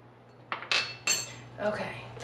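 A metal measuring spoon clinks against a container while scooping ground mustard in a home kitchen, a few sharp close taps and scrapes over a faint steady hum, no talking.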